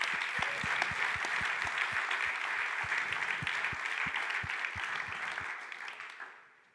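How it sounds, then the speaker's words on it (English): Steady, dense applause from a conference audience at a Bitcoin event, honoring Jack Mallers, sustained at even strength before tapering off near the end, with no voices over it. "Can we get a huge round of applause for Jack Mallers?"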